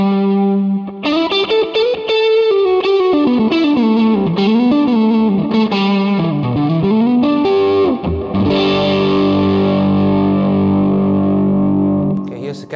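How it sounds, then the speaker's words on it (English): Electric guitar played on the neck pickup through an original 2007 Hermida Audio Zendrive V1 overdrive pedal: a loud, saturated sustained lead line with bends and vibrato, ending on a held distorted chord. "let's just check out the original Zendrive sound on my neck pickup"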